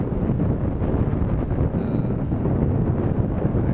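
Yamaha Aerox scooter ridden at full throttle, a steady loud roar of engine and rushing wind buffeting the microphone throughout, with no pauses or talk.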